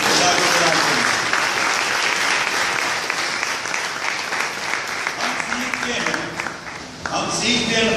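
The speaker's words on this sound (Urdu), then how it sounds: "ہاللیلویا، دل کرتا تالی بجائیں۔" A church congregation claps during a sermon, with loud, sustained applause filling the room throughout and a brief dip near the end before it swells again.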